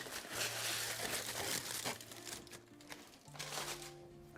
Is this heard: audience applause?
no